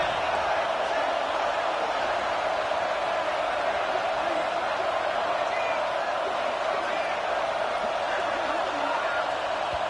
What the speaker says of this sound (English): This crowd on hand, trying to make sure the Gators don't back down on third down.